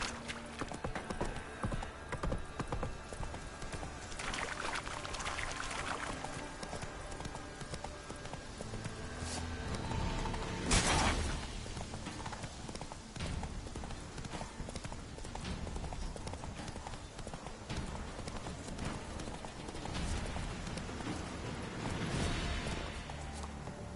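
A horse gallops in The Witcher 3 on PS4 Pro, its hooves beating a fast, steady clip-clop close by, with occasional whooshes and a brief neigh over the rhythm.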